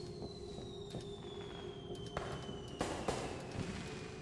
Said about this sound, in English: Is it like fireworks?